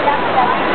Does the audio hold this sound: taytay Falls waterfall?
yes